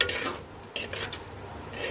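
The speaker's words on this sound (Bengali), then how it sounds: "তেলটা গরম হয়ে গেছে, এখন আমি দিয়ে দেব কেটে রাখা পেঁয়াজ।" Onion sizzles in hot mustard oil in a pan, a low steady frying hiss. A few brief scrapes and clinks of stirring sound over it, and no one speaks.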